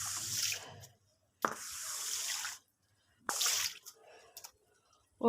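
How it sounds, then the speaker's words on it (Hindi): Dirty water gushes out of a domestic drain or outlet in several bursts separated by silent pauses, with splashing and dripping close by. "इतना गंदा पानी आ रहा है।"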